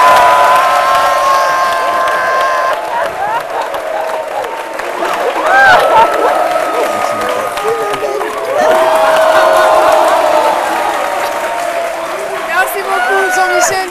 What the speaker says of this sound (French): Des applaudissements comme envoûtés.